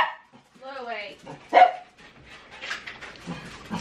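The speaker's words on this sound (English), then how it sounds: "Make him stop barking." A dog barks and yips close by, a few sharp barks and a whiny yelp, with someone talking over and between the barks in a home kitchen.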